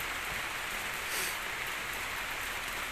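Heavy rain pours steadily in Cyprus, a dense, even hiss of falling water with no voices over it.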